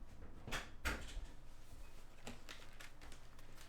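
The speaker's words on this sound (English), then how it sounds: "I'm locking the door." A door or cupboard is shut indoors with a couple of quick close thumps and clicks, followed by fainter light knocks and rattles like a latch being worked, no speech.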